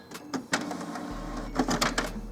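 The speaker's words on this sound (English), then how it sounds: "Now this will take the printer just a minute." A Canon Pixma MG5750 inkjet printer whirs and clicks as it starts printing a nozzle check page. Mechanical ticks and paper feed noises come over a low motor hum that starts partway through, close up, with no talking.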